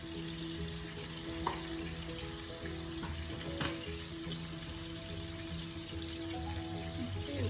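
Butter sizzles and spits quietly in a pan with lemon while salmon cooks alongside ugali, a soft continuous frying hiss with a few faint clicks of stirring.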